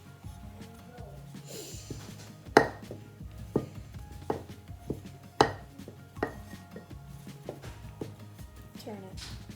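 A rolling pin works beleshi dough into a small round tortilla shape on a floured counter, with soft rolling and scraping punctuated by sharp knocks and taps of the pin, all over a low background hum.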